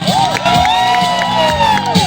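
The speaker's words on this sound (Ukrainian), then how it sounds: "ваші оплески артистам, ваші бурхливі оплески" An audience cheers and shouts for children performing folk songs in Truskavets, Ukraine, with bright whoops and overlapping high voices rising and falling over a loud crowd roar, close and sustained.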